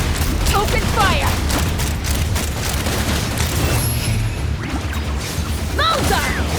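Rapid gunfire and heavy booms from the video game Genshin Impact, a dense, loud barrage running throughout with crashing impacts, while voices chirp and shout briefly over the din.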